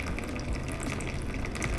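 Water gushing and trickling steadily out of a philodendron's plant pot during repotting, a continuous close splashing pour with no voices.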